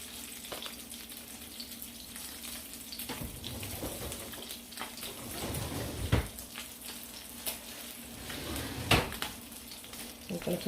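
Spam frying in popping grease, a steady close sizzle with crackling pops and a few louder spatters or utensil knocks scattered throughout.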